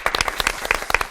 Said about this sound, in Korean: 우리가 많이 박수로 격려했으면 좋겠습니다